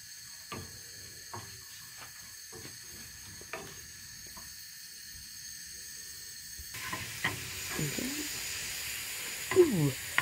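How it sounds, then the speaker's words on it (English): Onion and garlic frying and caramelizing in a pan on the hob, a soft sizzle with scattered clicks and utensil taps, quiet and close, growing busier toward the end. "we're just gonna caramelize our onion and garlic down a little bit"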